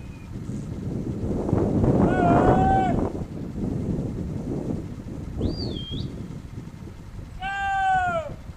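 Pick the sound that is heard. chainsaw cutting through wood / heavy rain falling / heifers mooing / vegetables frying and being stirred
heifers mooing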